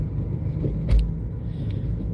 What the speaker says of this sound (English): you hear all the car sounds when I'm going down the road